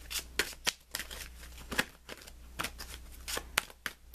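A stiff tarot card deck is shuffled by hand, giving a series of sharp riffling bursts and card flicks in an uneven rhythm, close and fairly quiet, with no voices.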